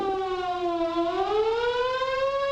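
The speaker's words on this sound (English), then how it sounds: "What if a warning siren sounds?" A civil defense siren wails loudly, its pitch dipping then climbing again in a long, steady howl with no other sounds.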